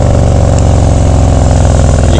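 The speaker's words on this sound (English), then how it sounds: "This exhaust sounds so mean." A motorcycle exhaust revs hard and close, giving a loud, gritty, pulsing drone with a steady throbbing beat throughout.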